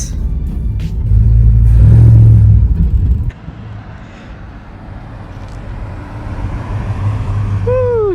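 A 1964 Ford Falcon engine rumbles loud and close while driving, with a heavy surge of revving early on that drops to a steadier, lower cruising drone over road noise.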